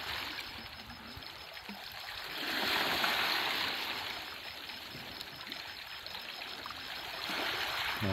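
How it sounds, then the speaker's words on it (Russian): Sea waves lap and wash on the shore at night in a steady, close rush of broadband noise that swells and fades gently, with no voices. "когда волны плещутся о берег"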